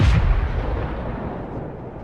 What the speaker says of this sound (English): Ukrainian artillery makes a massive attack on the stopped Russian column. And this looks like a Himars strike.